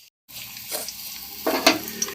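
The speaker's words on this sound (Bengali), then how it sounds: "এবার এর মধ্যে দিচ্ছি 1 চামচ পরিমাণে চিলি ফ্লেক্স।" Chilli flakes hitting hot oil with garlic and chilli in a pan for Korean chilli garlic noodles, a close, bright sizzle that swells as the spoonful goes in and is stirred.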